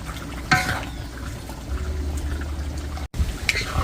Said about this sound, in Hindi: मैं इसको निकाल कर दूसरा बर्तन में रख रहा हूँ।